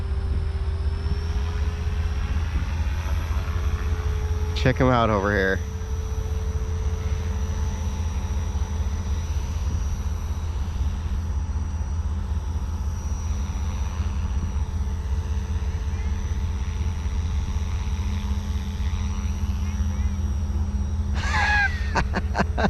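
A Blade 500 3D remote-control helicopter hovers with a steady, loud rotor drone and motor whine that holds throughout, under brief speech, with a couple of sharp sweeping chirps along the way.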